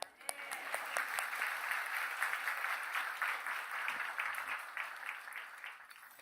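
A church congregation claps together after a sung amen following the choir's hymn, steady sustained applause from a room full of people that continues evenly and fades slightly at the end.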